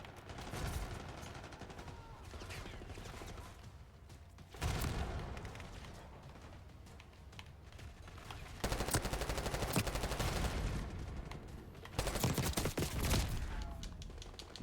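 Gunfire in the video game Call of Duty Black Ops 6, with rapid bursts of automatic shots and loud clustered blasts recurring across the clip over steady background game noise.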